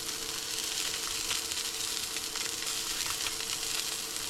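Tuna pieces frying in a hot pan aboard a boat, a loud steady sizzle with crackling spatter that continues without a break.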